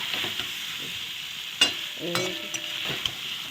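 Spice paste frying in a pan for a cauliflower and potato curry, a continuous moderate sizzle punctuated by several scraping stirs and a few clinks of the utensil against the pan.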